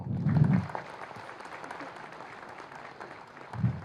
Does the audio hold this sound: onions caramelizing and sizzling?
no